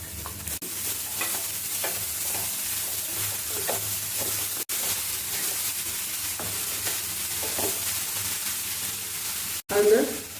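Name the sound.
snake gourd added to pan and stir-frying with ground paste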